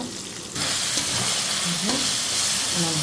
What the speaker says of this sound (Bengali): অল্প আছে মিষ্টি কুমড়াটা ভেজে নিব